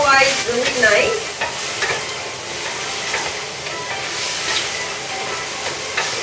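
Cubed pork and zucchini frying and caramelizing in a pan, a loud, dense sizzle and hiss with stirring scrapes, steady from start to finish.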